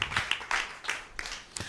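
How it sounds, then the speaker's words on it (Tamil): A church congregation claps to glorify the Lord, a few faint, loosely timed hand claps spread across a short moment, with no talking. "கைத்தட்டி கர்த்தரை மகிமைப்படுத்துவோமா"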